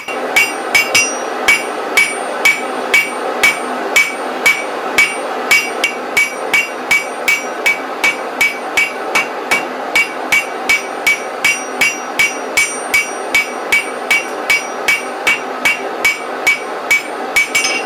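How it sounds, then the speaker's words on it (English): A hand hammer forges hot steel in a fast, regular rhythm, dozens of sharp ringing blows close by, with no talking. "sometimes it's fun to just go at it with the hammer"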